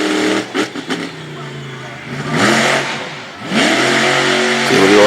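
A monster truck's engine roars and revs hard on a racing track, with the revs surging up and down in loud waves under an announcer's steady commentary.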